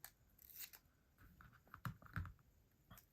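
Scissors snip through a paper planner sticker, giving a few quiet, crisp cuts spaced across a short stretch, close by and faint, with no one talking.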